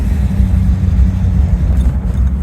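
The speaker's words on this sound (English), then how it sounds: "I have to give it more gas to really get it going." A Rolls Royce Silver Shadow rumbles as it is given more gas to pull away on a cobblestone road, a steady loud low engine drone with road noise and no voices.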